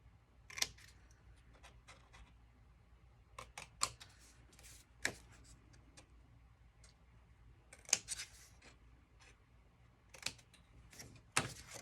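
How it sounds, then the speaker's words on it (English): Scissors snip through folded paper cut into small square pieces for a Dollar Tree 6 x 8 inch notebook folio craft, a series of sharp, separate cuts at irregular intervals, close and clear against a quiet room. "I need to find my scissors."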